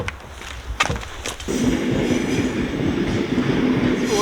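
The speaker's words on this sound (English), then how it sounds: "Er is een trein, er is een trein, er is een trein." A passenger train passes close by on the rails in Belgium. A few sharp knocks come first, then a loud, sustained rumble and clatter of wheels with a faint squeal near the end.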